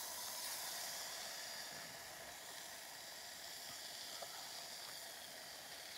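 Bacon frying in a pot at a lakeside overnight camp, a faint, steady hiss and sizzle with a few small pops, heard alone without talk.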